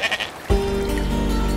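A sheep gives one long, wavering bleat that starts sharply and holds steady to the end, following a brief stretch of quiet background noise.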